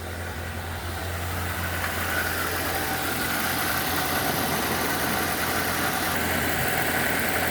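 A 2007 Nissan Y11 Wingroad with a QG15DE engine idles steadily at around 1100 RPM despite a rich-running, fast-idle fault, a constant mid-pitched hum heard up close without pause.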